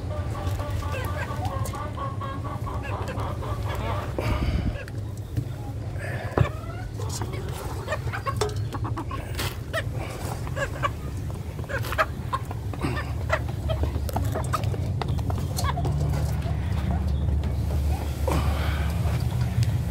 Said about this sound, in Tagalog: ito yung mga manok natin, bantam, pinakain natin